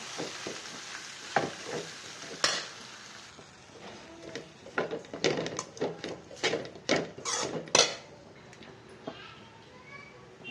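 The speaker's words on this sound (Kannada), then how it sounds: "ಇವಾಗೆಲ್ಲ ಒಂದ್ಸಲಿ ಮಿಕ್ಸ್ ಮಾಡೋಣ" Poha chitranna being mixed with coriander leaves in a pan over a low flame, with a soft sizzle beneath a run of quick spoon scrapes and clicks, close and moderately loud.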